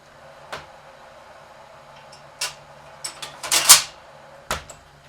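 A vintage Pepsi vending machine, a restored Vendorlator 56, drops a bottle from its rack: a few scattered metallic clunks and knocks, then a louder rattling clatter and one last thud, close and with no voices.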